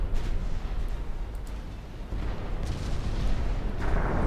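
Naval gunfire and shell explosions hitting ships in a 1905-era fleet battle in Ultimate Admiral Dreadnoughts, a continuous roar of booms and rumbling blasts with no talk.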